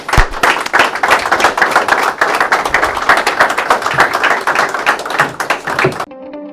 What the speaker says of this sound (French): levez-vous pour lui donner un grand applaudissement